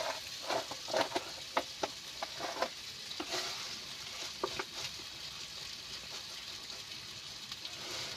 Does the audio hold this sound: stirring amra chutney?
yes